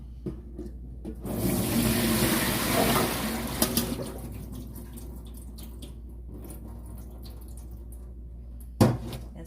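Fresh Korean rice cakes (tteok) being rinsed and strained in water for tteokguk, with a burst of splashing and sloshing at first that gives way to quieter dripping and a single sharp knock near the end.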